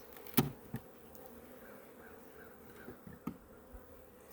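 Honeybees buzz softly around an opened beehive during a check, a faint continuous drone broken by a few sharp knocks and clicks.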